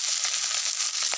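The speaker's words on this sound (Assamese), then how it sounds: "গৰম হৈছেগৈ ইয়াৰ পৰা কেইটামান মোৱা মাছ দিলোঁ ইয়াত" Small mola fish frying in hot oil in a pan, a steady close sizzle with a few brief crackles over about a second, no speech.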